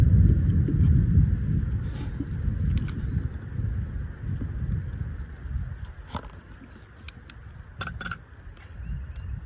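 Wind gusting outdoors, a steady low rumble with buffeting microphone noise that rises and falls throughout, with no other sounds standing out.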